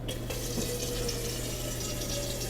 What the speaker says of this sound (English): Now you're going to hear some water running in the background